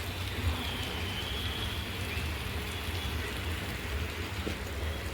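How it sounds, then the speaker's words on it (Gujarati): Heavy monsoon rain in Gandhinagar pours down steadily, a dense, even roar of water with no break, no voices heard. "વરસાદ જોરદાર વરસે છે, ધોધમાર."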